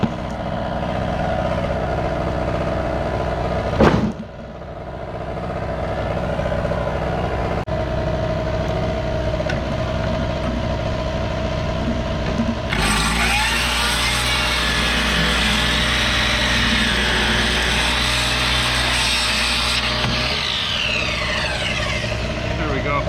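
A power tool run off a generator cuts a 45-degree angle in wood for truck ramps, a loud steady whine rising midway over the constant drone of the running generator, with a brief knock before it.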